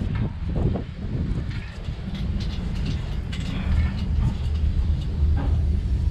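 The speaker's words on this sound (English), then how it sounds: "That train is loud." A loud train rumbles past close by with a continuous heavy roar and faint rattling, running steadily throughout.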